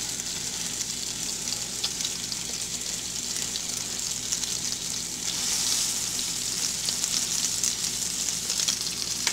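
Hamburger steak sizzles in a hot frying pan, a steady broadband crackle that swells slightly louder midway, with no talking over it.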